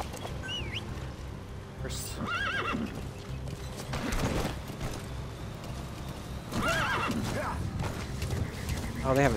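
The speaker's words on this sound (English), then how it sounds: "My horse." Horse in Metal Gear Solid V neighs and whinnies several times over steady clip-clop hooves and mechanical game ambience, with a constant rumbling background throughout.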